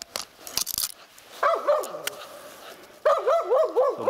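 Laika hunting dogs bark and yelp in a forest during a marten hunt, two bursts of rapid, yapping barks close by, separated by brief rustling and quieter pauses.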